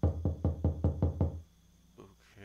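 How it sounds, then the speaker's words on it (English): Knocking on a door: six firm, evenly spaced knocks in quick succession, close and resonant, followed by a quiet pause and a faint shuffle. "Knock, knock."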